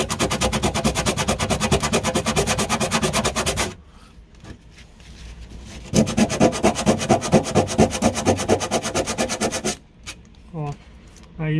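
Sandpaper is rubbed by hand over a rusty part of a Variant car, making loud, rapid back-and-forth scraping strokes in two long bursts separated by a short pause, with a brief voice near the end.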